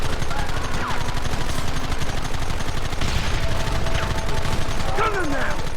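Rapid gunfire from a shootout in the video game Red Dead Redemption, dense and sustained throughout with scattered louder bursts and ricochet-like streaks layered over a busy battle background.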